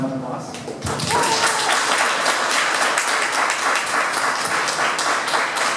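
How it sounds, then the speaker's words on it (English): Audience applause at a community event, opening with speech that quickly gives way to loud, sustained clapping from a crowd, steady and full for several seconds. "round of applause"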